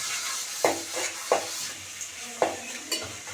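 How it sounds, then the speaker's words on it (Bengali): Salted onions fry in a pan for a mutton curry, a low hiss under several distinct clacks and scrapes of a spoon stirring against the pan, close by with no voices. "ভালো করে এগুলোকে ফ্রাই করে নিচ্ছি। ভালোভাবে পেঁয়াজটা ফ্রাই করছে।"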